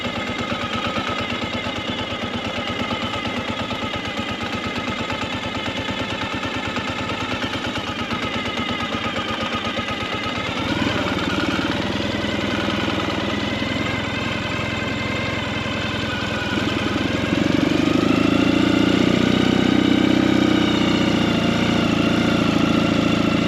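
A Ural motorcycle with a sidecar idles and rumbles along a dirt road, its engine a steady close mechanical drone that rises in pitch and grows louder as it accelerates toward the end.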